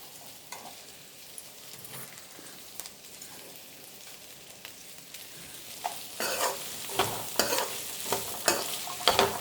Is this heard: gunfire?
no